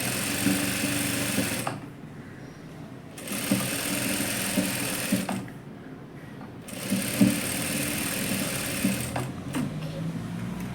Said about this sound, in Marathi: उलट्या बाजूवर सरळ बाजू ठेवली आहे आणि शिवून घेतीये